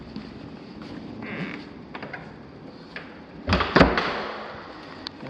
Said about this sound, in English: This is our front door here.